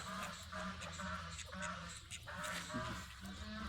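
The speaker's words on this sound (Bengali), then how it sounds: "এই জায়গায় হাঁস" Ducks quacking repeatedly at a mini zoo farm in Kuwait amid a busy outdoor background, with people talking nearby; the calls come in short bursts throughout.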